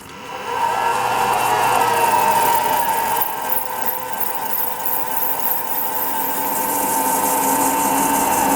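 A cold Vevor MX600 metal lathe spins up and runs steadily, a close, continuous motor whine with a high tonal hum and faint squeal that holds level for several seconds.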